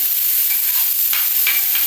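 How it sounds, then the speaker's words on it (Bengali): Bright, steady sizzle of garlic, onion and curry leaves frying in hot oil for fried leftover rice, with a few stirring scrapes, close and unbroken, no talking. "ভাত ভাজার মধ্যে কারি পাতাটা বেশি ভালো লাগে রসুন কুচিটাও দিয়ে দিলাম পেঁয়াজটাও দিয়ে দিচ্ছি"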